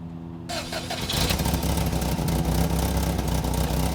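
A Volkswagen Westfalia van engine cranks after a quiet moment, catches within about a second, then settles into a loud, steady running rumble.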